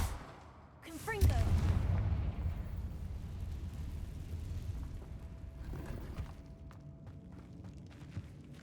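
A Confringo fire spell blast in Hogwarts Legacy erupts as one loud, deep boom with a rumbling tail that fades over several seconds, preceded by a short spoken incantation.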